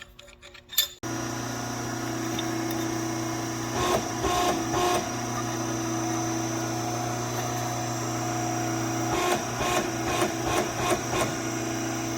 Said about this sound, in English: I've got an iron worker to punch holes, so I'll use this square punch here and give that sucker a punch.